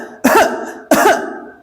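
Two sharp, forceful coughs from one person, close and loud, roughly two-thirds of a second apart, each trailing off into breathy exhalation, demonstrated during a pranayama breathing lesson.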